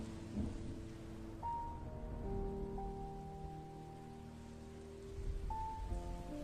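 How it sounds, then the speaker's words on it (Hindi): Heavy rain hisses steadily, with deep thunder rumbling beneath it and sustained music tones layered on top. The sound stays fairly even throughout, with no voices. "बारिश तेज हो गई और चारों ओर का दृश्य धुंधला दिखने लगा।"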